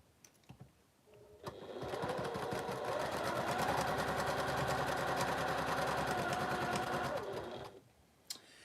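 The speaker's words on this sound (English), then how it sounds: "you sew down that line" Sewing machine stitching quilt fabric in one continuous run of about six seconds, a close, even mechanical whir with rapid needle rhythm, preceded and followed by quieter handling sounds.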